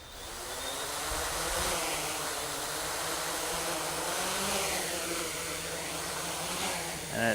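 Hexacopter 550 motors buzzing at idle and then throttling up, a steady loud whine that rises and shifts in pitch and stays continuous, with no voices.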